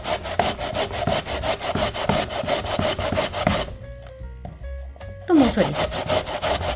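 A potato is grated by hand for Korean potato pancakes, corner edge first, giving rhythmic rasping strokes up close; a brief pause midway carries a faint tonal hum before the scraping resumes, and a voice speaks briefly.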